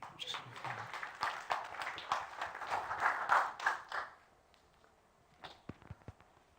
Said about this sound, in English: This is the part where you clap for them.